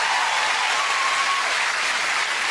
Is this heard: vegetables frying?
no